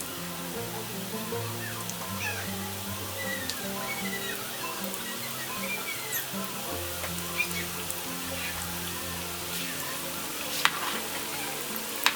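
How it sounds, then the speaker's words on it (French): Food sizzles and fries in hot oil over medium heat in a large pan for a Congolese gratin, a steady crackling hiss with occasional sharper pops, moderately quiet and continuous. "L'huile a chauffé, ça a un feu vraiment moyen. Je vais maintenant commencer à griller."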